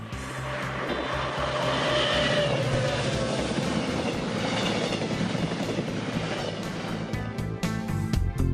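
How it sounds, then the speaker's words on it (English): A train speeding along the Korean west coast rushes past with a loud, sustained roar and rattling wheels, then rhythmic clacking grows sharper near the end. "As the sun sets, a train speeds along the coast."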